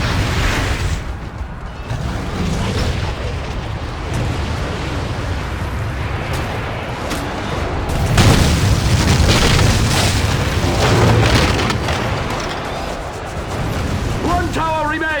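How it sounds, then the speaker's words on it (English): Catapults firing and exploding during a siege battle in The Lord of the Rings: Conquest, a continuous loud rumble of booms and crashes with a heavier surge of blasts midway, voices shouting over the din. "Fire the catapults! Destroy them now!"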